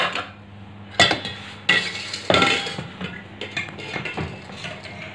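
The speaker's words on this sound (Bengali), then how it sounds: "বন্ধুরা দেখি কুকারটা খুলে কি হয়েছে।" Metal lid of a pressure cooker being opened after boiling banana flower with salt and turmeric, giving a few sharp clanks and clinks of metal cookware against a steady kitchen background hum.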